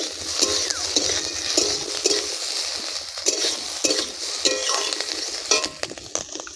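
Capsicum and onion fry together in oil in a pan, a close sizzle broken by repeated scraping and clinking of a stirring spoon against the metal, with no talking.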